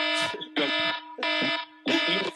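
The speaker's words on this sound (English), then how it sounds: "My alarm went off." A loud electronic alarm beeps in four long bursts with short gaps between, each a bright, harmonic-rich tone that holds steady, with no talk over it.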